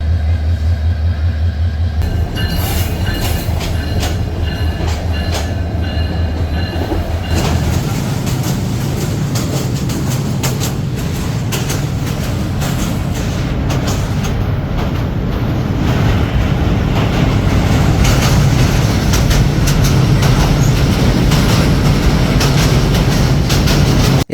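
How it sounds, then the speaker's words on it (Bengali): Train journey in Bangladesh bound for Lalmonirhat: steady loud rumble of a moving passenger train with rattling carriages, continuous throughout, the noise swelling slightly toward the end, with no talk. "ট্রেন জার্নি করে যাওয়াটা খুব ভালো লাগে"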